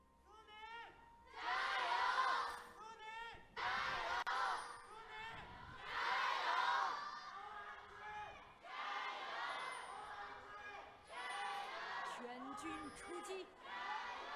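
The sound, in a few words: esports arena crowd cheering at a League of Legends match in Chengdu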